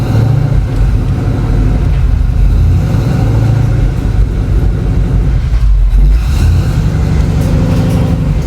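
Rebuilt-transmission car pulling away and running up through first, second and third gears on a dirt track, engine droning loud and steady throughout with a brief dip around a shift, gravel likely flung under the tires.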